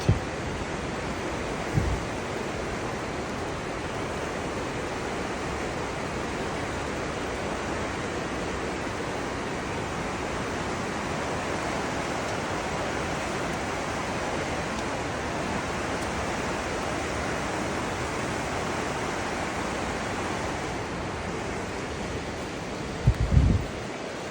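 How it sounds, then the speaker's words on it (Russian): A small mountain stream rushes under a bridge near Sochi, a steady broadband roar of water running unbroken and close, with a couple of brief bumps at the start and end. "Речушка течет, течет, шумит и шумит."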